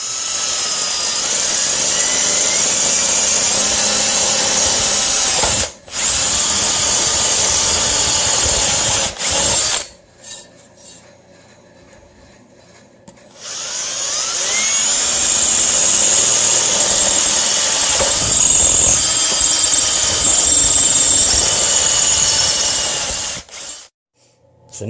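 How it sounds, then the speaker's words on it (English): A power drill bores holes in wood for a homemade weight bench, a loud sustained whine running for long stretches, briefly cut off and then resuming, with no talking. "So let's drill out the holes"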